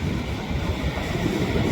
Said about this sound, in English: you can see all the mountains and the beach and the waves coming in